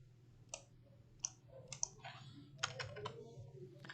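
Several sharp computer mouse clicks are heard in a quiet room, spaced irregularly and close to the microphone.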